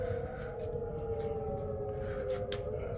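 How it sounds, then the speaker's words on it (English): A tornado-warning civil defense siren wails continuously in the distance, a steady rising-and-holding tone that seems to come from more than one siren, heard outdoors with faint background noise. "There's some kind of siren going on off."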